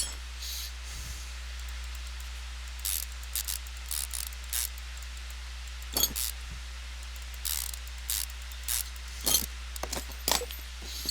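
Long engine block bolts being pulled in Car Mechanic Simulator 2015, heard as a string of short metallic ratchet and clunk sounds, separated by pauses, over a steady low hum.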